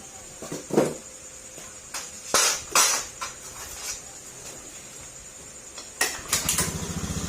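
A Honda Beat FI scooter running with an unusually loud noise, heard as a low engine rumble broken by sharp metallic clanks and revs, with a brief throttle burst near the end; close and fairly loud.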